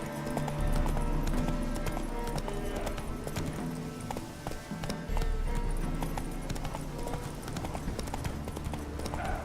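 In The Witcher 3, the horse Roach gallops with rapid, continuous hoofbeats pounding up close and loud, carried over a busy game soundtrack.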